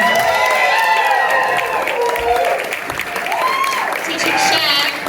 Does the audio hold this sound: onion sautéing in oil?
no